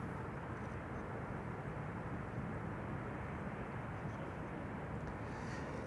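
KLM Boeing 777-200 jet arriving at Amsterdam Schiphol, a steady, faint, broadband roar of the airliner in the distance, unbroken and without voices.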